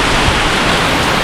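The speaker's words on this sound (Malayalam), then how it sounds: "അതിഭയങ്കരമായ മഴയാണ്." Heavy rain pours down along the NH66 highway between Cheppad and Haripad, a loud, dense and continuous wash of noise filling the short stretch.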